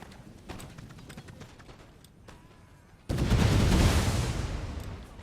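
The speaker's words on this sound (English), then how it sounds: "The grenades are about to be thrown." Grenades burst in a Napoleon: Total War battle. A sudden loud, rumbling blast at the end rises out of busy battlefield noise, with hoofbeats and scattered crackling shots underneath.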